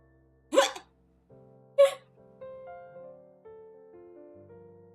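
A human voice imitates hiccups, with two sharp, loud hiccup-like bursts about a second apart, followed by quieter sustained tonal humming sounds in a mostly quiet room.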